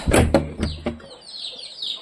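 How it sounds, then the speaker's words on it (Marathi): Chickens kept inside a house give a few sharp, close clucks in quick succession at the start, then trail off into softer, fainter chirps and rustling. "अगं इथं कोंबड्या आहेत आपल्या आवाज येत आहे"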